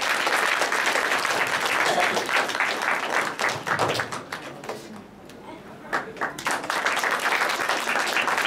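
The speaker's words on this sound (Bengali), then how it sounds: "সকলে একটু করতালি দেবেন" Applause from an audience at a gathering: dense clapping rises, briefly thins in the middle, then swells again to a full, lively round, with voices mixed in.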